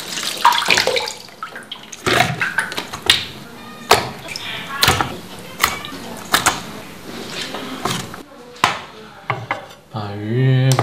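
A fish being rinsed under a running tap, with intermittent splashing, knocks of the fish and dishes against the sink, and brief pauses.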